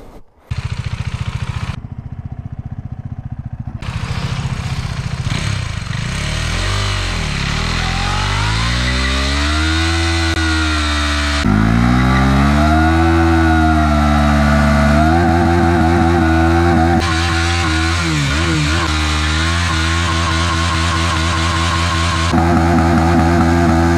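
A KTM Duke 390 motorcycle revving hard during a burnout, loud and close, its engine climbing and falling in pitch through repeated sustained revs and throttle blips, with brief drops between bursts.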